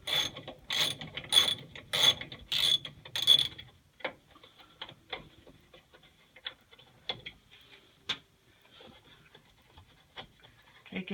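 Hand tools unscrewing and removing parts of an oil furnace, starting with a series of six rapid metallic ratcheting bursts, then scattered small clicks, taps and clunks, close and fairly quiet.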